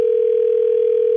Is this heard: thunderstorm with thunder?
no